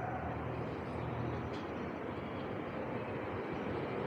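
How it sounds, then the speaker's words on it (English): A passenger train bound for Brisbane rolls into a Queensland station, a steady broad rumble of wheels and engine that stays loud and continuous throughout, with no talk over it. "Here comes the train."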